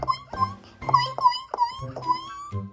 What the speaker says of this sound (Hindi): कुत्ते की रोने की आवाज आई